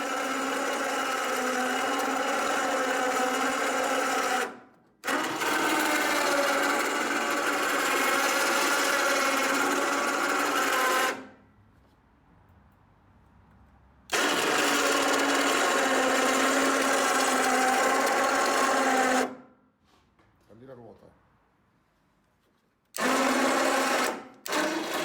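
Electric power steering motor on a Ford Escort being rebuilt, running in long steady whirring bursts of several seconds each, separated by abrupt stops and short quiet gaps, loud and close.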